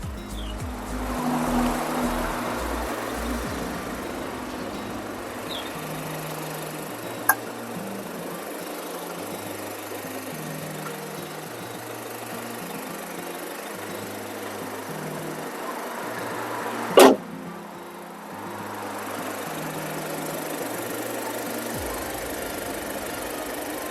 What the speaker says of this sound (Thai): เราก็จะชมรถกันไปด้วยฟังเสียงเครื่องกันไปด้วยเนาะวันนี้